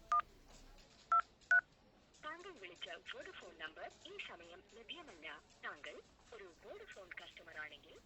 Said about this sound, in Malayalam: ഞാൻ ഫോൺ ചെയ്യാം.